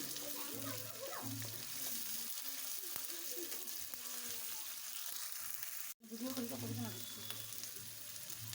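Garlic paste and cumin paste are stirred and fried in a pan, a soft, even sizzle with occasional scraping sounds, partly under quiet talk.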